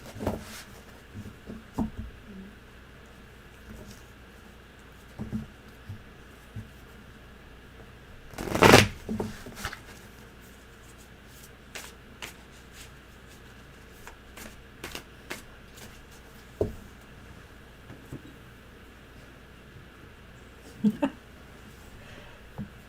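Tarot cards are shuffled quietly and intermittently, with soft riffles and taps spread across a hushed room and one sharper, louder flurry partway through.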